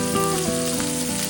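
Spice paste of cumin and coriander fries in a pan for a vegetarian paneer and potato curry, giving a steady, close sizzle that fills the whole moment, with no voices.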